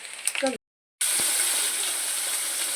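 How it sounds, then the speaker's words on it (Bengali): Paneer and eggplant (brinjal) shallow-frying together in a home kitchen pan, a bright steady sizzle after a brief cut, preceded by a short clatter. "এখানে পনির করছি পনিরটা পনিরটাকে হালকা ভেজে তারপরে তরকারি করব সাথে বেগুন ভাজছি"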